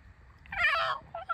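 An angry fox gives a loud, harsh drawn-out scream close by, then a couple of shorter yelps, with no talking.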